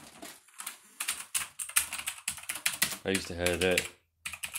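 Typing on a new Onn keyboard from Walmart gives a quick run of crisp plastic key clacks, steady and close, mixed in with casual talk nearby.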